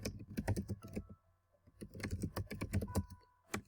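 Quick keystrokes on a computer keyboard, close and fairly quiet, two bursts of brisk irregular clicking separated by a short pause, with no voice over them.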